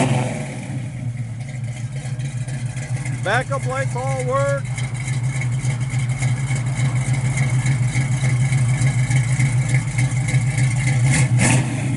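A 1968 Chevrolet Camaro with a 350 V8 idles with a steady rumble out the back, heard beneath someone talking, with a light rev lifting the exhaust near the end.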